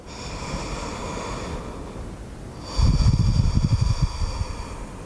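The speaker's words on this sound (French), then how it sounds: "Une belle respiration." Deep breathing during a vinyasa yoga flexibility session, a steady airy hush that swells into a louder, closer rush of breath partway through, with no talking.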